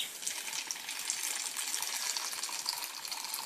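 Hot water pours steadily into a cup or pot while preparing a British 24-hour field ration lunch with bouillon cubes, a close, even hissing gush with no talking.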